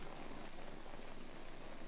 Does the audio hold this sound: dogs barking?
no